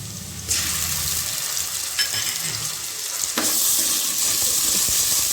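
Ginger garlic paste sautéing with onions in a pan gives a steady, loud, close sizzle and hiss that flares suddenly as the paste hits the oil, then continues evenly with faint stirring scrapes.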